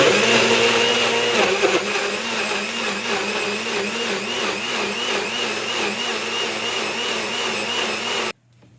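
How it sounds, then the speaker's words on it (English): A kitchen blender whirs through a batch of vegetables, a loud steady motor whine with a pulsing churn as the blades chop, running continuously for about eight seconds before cutting off abruptly into quiet. "Okay, I'm about to blend my vegetables."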